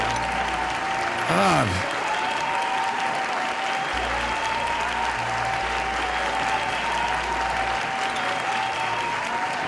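Clapping sound effects set off over and over by a viewer during a live Oxygen Not Included game stream, a dense continuous burst of applause with a brief synthetic sweep near the start while someone speaks over it.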